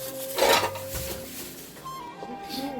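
Kalguksu noodles going into a cooking pot in a home kitchen bring a short burst of metallic clinks and pot clatter, followed by lighter utensil taps and a brief murmur of voice near the end.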